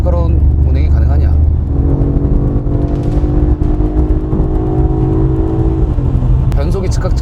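Mercedes-Benz CLE coupe accelerating hard in sport mode, a loud, steady engine drone that climbs in pitch as it pulls, heard from inside the car with someone talking over it.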